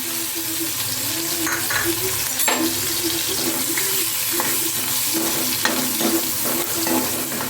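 Cumin, cinnamon, bay leaves, ginger, garlic and chilli frying in oil in a kadhai for egg masala, with a continuous close sizzle, repeated ladle scrapes and light clinks, and no voices.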